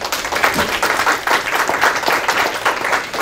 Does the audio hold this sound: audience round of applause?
yes